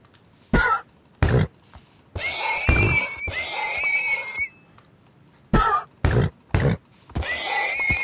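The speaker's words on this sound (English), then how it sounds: "Let me kill this horse." Horse being attacked and killed in a Minecraft UHC match, giving a series of sharp, strained bursts and cries in quick succession, with a few louder hits between stretches of steady game noise.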